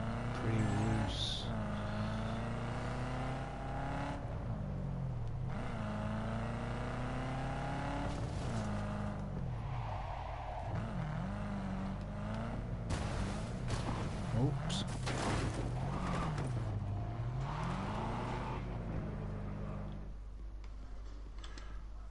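A loosely handling car in Cyberpunk 2077 hums along with a steady engine drone that shifts pitch as it speeds up and slows, while someone talks over it throughout.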